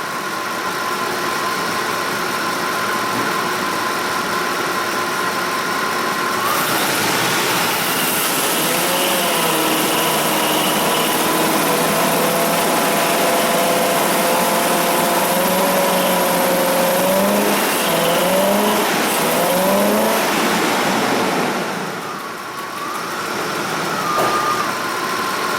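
A Ford car engine idles steadily, then is revved in a few rising and falling sweeps before settling back to idle, loud and close throughout.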